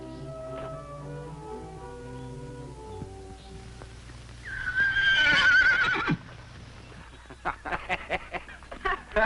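A horse neighs loudly in a long whinny near the middle, after quieter background music and before a run of short knocking sounds, in a 1956 television western drama about a horse.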